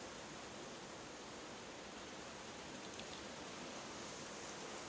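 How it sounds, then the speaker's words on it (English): Rain falls steadily on a greenhouse roof during garden work, a constant soft hiss of patter with no pauses, fairly faint and even throughout, and no voices over it. "Pardon the rain that you can hear."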